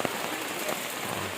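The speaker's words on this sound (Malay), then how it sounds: "Memang non-stop lah hujan daripada pagi tadi. Hujan masih non-stop." Heavy, non-stop rain falls at a campsite in Kampung Padang Stang, Gerik, Perak, a steady dense hiss of drops on surfaces with no break.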